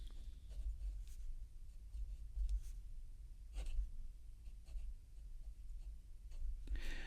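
A Hongdian Black Forest carbon fiber fountain pen with a medium nib writing on paper: soft scratchy strokes with small taps between them, close and quiet, with no talk.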